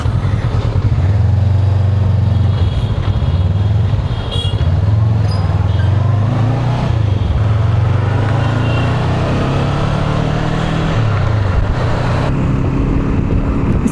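A Honda motorcycle with E-Clutch and quick shifter ridden on the road, its engine droning loudly and steadily up close, rising and falling in pitch through gear changes, with heavy wind rush throughout.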